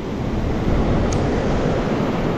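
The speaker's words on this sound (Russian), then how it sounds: "Сегодня опять заштормило. Видите, я приехал, а меня встречает вот такое вот море" A stormy winter sea pounds a Crimean beach while strong wind buffets the microphone, a loud, continuous roar of surf and gusts with no voices.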